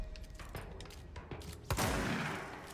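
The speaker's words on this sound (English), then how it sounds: "It's just gonna shoot a shit ton of bullets." A weapon in the action game Control unloads a rapid spread of bullets, a sharp loud burst of overlapping shots that rings out and decays over about a second, preceded by lighter scattered game noises.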